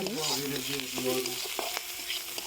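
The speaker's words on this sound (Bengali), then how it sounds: "এখন প্যানের মধ্যে আমি পেঁয়াজ ভেজে নিচ্ছি" Onions frying in oil in a pan while fish curry is cooked, a steady close sizzle with light stirring scrapes and no talk.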